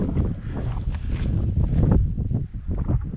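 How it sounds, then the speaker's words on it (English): Steady wind buffeting the microphone, a continuous low rumble with gusty swells throughout, loud and close. "it's still a little windy"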